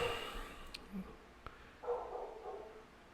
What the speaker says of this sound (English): Dog is barking in the background.